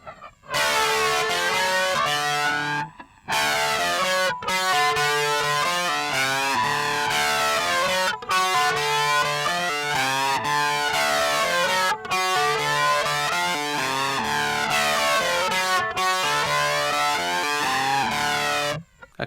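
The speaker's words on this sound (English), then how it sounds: "I think it is time now for us to turn on the distortion." Distorted electric guitar riff through a TC Electronic Thunderstorm flanger pedal, loud sustained chords with a sweeping, whooshing flange that rises and falls, broken by a few short pauses.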